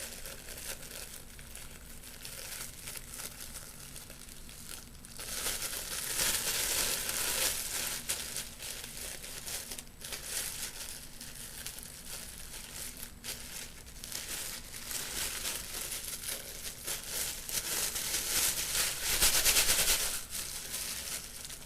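Close, continuous crinkling and crumpling of a plastic bag being worked open, with bursts of louder rustling and stretching.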